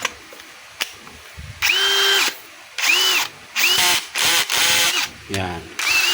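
A DeWalt DCD7781 cordless hammer drill whirs in several short bursts, spinning up and stopping repeatedly at close range, with brief clicks between runs and some speech nearby.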